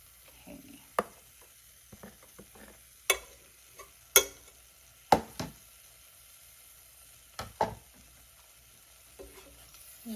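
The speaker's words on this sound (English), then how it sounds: "Just gonna keep stirring this while it all melts" Pasta with cream cheese and butter is stirred in a pot, giving a soft bubbling sizzle broken by sharp, irregular clinks and scrapes of the spoon against the pan.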